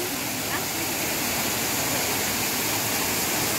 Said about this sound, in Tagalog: ito yung falls niya